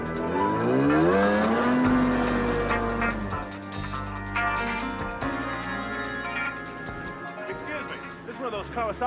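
A Kawasaki 440 engine revs hard and accelerates, its rising whine climbing in pitch over sustained loud roar, with speech-like voices and music-like tones mixed through the scene.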